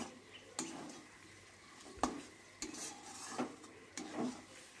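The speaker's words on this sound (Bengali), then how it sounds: "চর্বিটা দিয়ে কিছুক্ষণ নেড়ে চেড়ে নেব। চর্বিটা দেখুন আস্তে আস্তে গলতে শুরু করেছে।" Goat fat melting in a cooking pan, stirred with a utensil that scrapes and knocks against the metal in irregular clinks, over a soft background sizzle.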